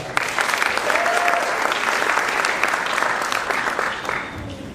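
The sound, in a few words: round of applause at awards ceremony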